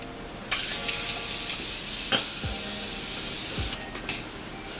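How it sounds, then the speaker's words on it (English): A steady, close hiss of Morphe setting spray misted onto a face runs for about three seconds, with a few small clicks and handling noises around it. "I am going to be taking this Morphe setting spray and I'm just going to set my face"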